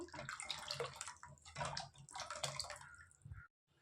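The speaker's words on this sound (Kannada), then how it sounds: "ಕುಕ್ಕರ್ಗೆ ಸ್ವಲ್ಪ ನೀರು ಹಾಕ್ಕೊಳ್ತೀನಿ" Water poured into a pressure cooker while making kattu saaru, a steady splashing pour lasting a few seconds up close, then stopping abruptly into silence.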